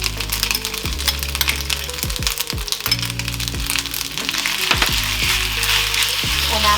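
Vegan yaki udon noodles sizzle in a hot pan with dark soy sauce and mushroom sauce, under a constant loud frying hiss punctuated by repeated metallic clinks and scrapes of stirring utensils.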